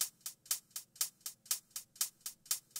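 Two layered hi-hats tick out a steady 8th-note pattern in an 80s synthpop beat, one panned hard left and one louder on the right, each hit crisp and bright with slight volume variation for a human feel, about twelve even strikes with nothing else playing.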